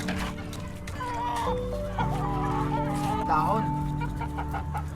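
Many chickens cluck and chatter continuously at close range in a simple chicken coop, with a low mechanical drone underneath and a person speaking briefly over them.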